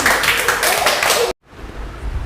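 A class claps together, a brief burst of dense applause that cuts off abruptly into near silence, with faint low background sound afterward.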